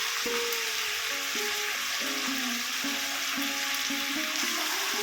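Spice paste sizzles and is stirred into a pan of chicken curry, a steady, close frying hiss that carries evenly throughout over a faint tonal background.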